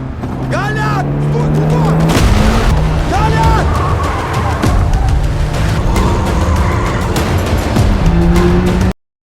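A car engine revs and speeds off into a restricted area, pursued by jeeps, with loud continuous motor roar, passing engine sweeps and brief tire squeal, ending abruptly.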